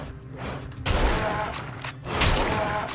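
Gunshots fired at a mummy in The Mummy video game, two heavy booming bursts with sharp onsets, each ringing out and fading, moderately loud.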